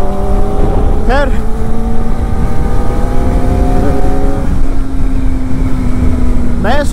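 A Kawasaki Ninja ZX-4RR motorcycle rides through Kolkata city streets, its exhaust a loud, close, steady drone that rises and falls in pitch with the revs, while brief horn-like tones from nearby traffic cut in.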